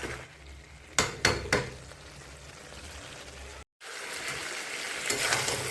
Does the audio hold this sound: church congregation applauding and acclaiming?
no